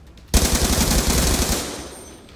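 Sustained automatic rifle fire from an M8A1 in the Black Ops 2 multiplayer video game, one loud continuous burst of rapid shots starting abruptly and lasting well over a second before tailing off.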